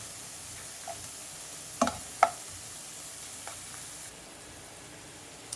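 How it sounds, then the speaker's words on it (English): Pork chops simmering in butter in a pot, a soft steady bubbling hiss with a couple of faint clinks near the middle, quiet and close without voices. "just allow that to continue to simmer"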